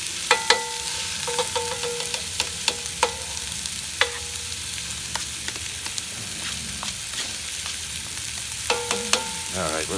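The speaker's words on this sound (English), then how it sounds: "We'll just let that sausage cook." Sausage frying in a cast-iron Dutch oven for a mountain man breakfast, a steady loud sizzle with scattered sharp scrapes and clinks of a utensil stirring and breaking up the meat, no talk.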